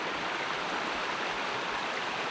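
Water flows steadily along Bluff Creek, a close, even rush of broadband noise that holds at the same level throughout, with no voices or other sounds on top.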